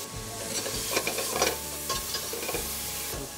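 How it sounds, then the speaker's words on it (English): Garlic sizzles in olive oil in a pan with steady frying crackle and occasional stirring scrapes, close and clear, no voices. "Some more olive oil into the pan. I'm going to add some garlic to this."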